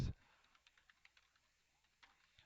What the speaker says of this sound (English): Typing is a struggle this morning.